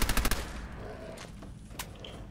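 Rapid bursts of gunfire from the player's gun in Fallout 4, a quick cluster of loud shots at the start, then a noisy tail with one more sharp crack near the end.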